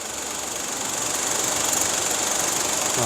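A running engine with a faulty pump makes a steady mechanical rattle and knocking that grows slightly louder, heard up close with no voices.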